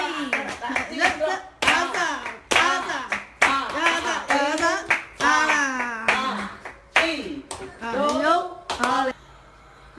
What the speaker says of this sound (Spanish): Todas las palmas, a vampiro.